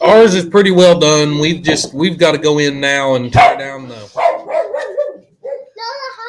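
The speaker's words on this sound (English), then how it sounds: "Sorry about the crazy dog." A dog barks several times at a ranch during a family evening outdoors, the sharp barks mixed in with and following close, ongoing conversation between adults and children.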